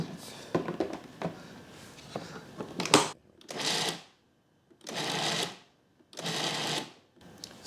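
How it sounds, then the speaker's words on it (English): A food processor grinds pine nuts for pesto in short pulsed bursts, a few quick choppy pulses followed by three longer whirring runs with brief silences between, close and fairly loud. "I'm just grinding up the pine nuts"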